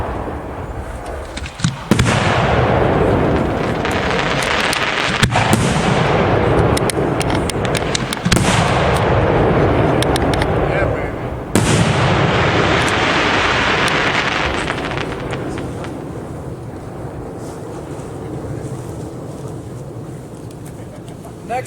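Dominator 5-inch aerial firework shells from a Versa B1 assortment bursting outdoors, a series of loud booming explosions with crackling tails, heavy wind buffeting the microphone throughout, fading quieter toward the end.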